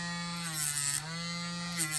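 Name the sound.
Dremel with flap wheel sanding edge of cup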